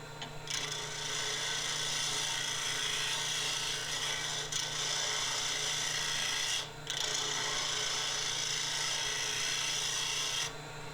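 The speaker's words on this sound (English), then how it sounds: "flatten the glue block best we can with our gouge." A woodworking gouge rasps and scrapes across a wooden glue block, flattening its surface in long continuous strokes with a couple of brief pauses, close and fairly quiet.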